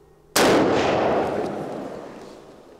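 A single sharp .270 Winchester rifle shot from a Model 70 firing handloaded ammunition at a target range, loud and close, with a long rolling echo fading over a couple of seconds.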